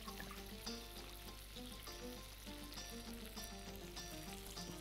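Rice and almonds frying in a pan, a steady close sizzle that runs unbroken with faint stirring and no voices.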